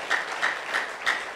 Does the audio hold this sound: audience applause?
yes